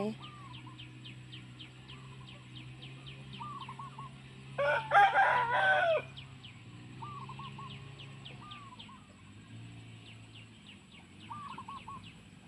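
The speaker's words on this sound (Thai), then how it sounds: "ไก่จิกกินจ้ะ" Free-roaming farmyard chickens being fed rice cluck in repeated short calls while a rooster crows once loudly partway through, all at moderate distance in a quiet rural setting.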